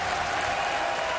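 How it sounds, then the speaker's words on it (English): Volleyball arena crowd on its feet at match point in a Canada versus USA VNL 2024 men's match, a dense, steady wash of cheering and applause, loud and continuous with no pauses. "Crowd on its feet."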